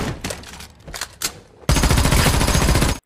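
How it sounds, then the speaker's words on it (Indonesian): Sustained rapid gunfire bursts out loud and dense in a film scene of a man gunning down another, preceded by quieter scuffling and brief thuds before the shooting erupts and continues steadily to the end. "dengan cepat Paul mengambil senjatanya dan menghabisi Knox tanpa ampun"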